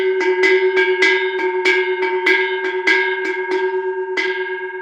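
A cowbell swung gently in a slow, even rhythm like a calm cow walking, about a dozen bright clanks close and loud with ringing overtones between strikes.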